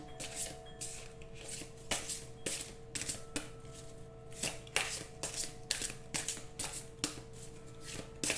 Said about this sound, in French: J'ai envie de retirer une autre carte, voir.